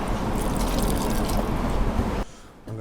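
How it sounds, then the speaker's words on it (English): Starchy pasta water is poured from a kitchen vessel into a pan with sea bass and homemade pasta, a close, steady gushing splash that stops abruptly, followed by a brief faint clink. "I'm going to add a tiny bit more of that pasta water."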